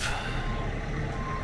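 Dump trucks loaded with about 20 tons of rock each reverse at a house foundation for backfill, giving a steady engine rumble with a faint reversing beep running through it and no talk.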